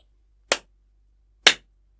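Two crisp hand claps about a second apart, close and alone in a quiet room, marking the two syllables of the word kindness.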